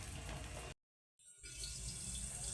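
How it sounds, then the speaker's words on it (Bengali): Starch water draining off freshly cooked rice, a soft steady pour of liquid that drops out briefly into silence before the trickling resumes, quiet and close, no voices. "ভাতও হয়ে গেছে, ভাতে ফ্যানটা গালিয়ে নেব এখন"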